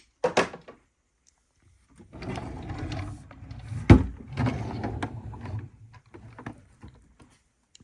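A makeup drawer slides open and shut with wooden scrapes and rummaging knocks, including one sharp bump, spread over several seconds between quiet pauses, with no one speaking.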